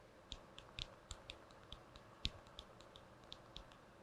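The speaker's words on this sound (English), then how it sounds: "You actually get a very subtle clicking noise" Quiet, close clicks come from the physical keys of a Clicks keyboard case on a Motorola Razr or Pixel 9 phone, in an uneven typing rhythm of about fifteen light taps, with no talking.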